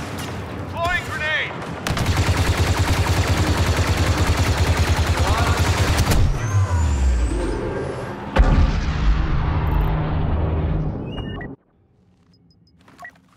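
Grenade blasts and bursts of gunfire on the Death Star II map in the online shooter Star Wars Battlefront 2, loud and dense for about ten seconds with booming hits, then cutting off into near silence.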